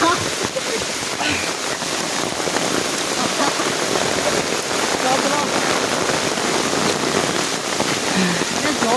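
Heavy rain pours down in a steady, dense roar close by, with a person's voice faintly audible beneath the downpour.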